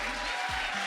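An audience gives a big round of applause after a live conversation event, heard as a steady, fairly faint wash of clapping throughout with a low hum underneath.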